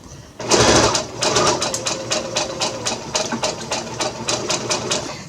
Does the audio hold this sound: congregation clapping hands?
no